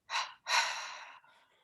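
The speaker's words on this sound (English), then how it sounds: "So it's a short inhale followed by a longer inhale. So, and then a short and long exhale." Breathing exercise performed close up: a short inhale then a longer one, followed by a soft trailing exhale, quiet and isolated.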